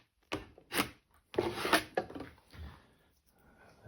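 A scraper tool drags across wet watercolor paint on paper in a few short, dry rasping strokes with pauses between, close and fairly quiet, no voices.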